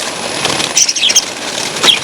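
Quick bursts of wing flapping from small birds, fluttering in short flurries with faint high chirps over a steady background hiss.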